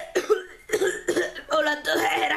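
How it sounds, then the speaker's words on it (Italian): Several harsh coughs in quick succession, close and loud, followed by a throat-clearing rasp. "ho la tosse"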